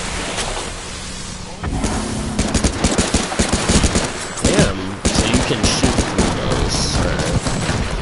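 Rapid bursts of gunfire from a video game shooter crackle densely throughout, loud and close, with a player talking over the shooting.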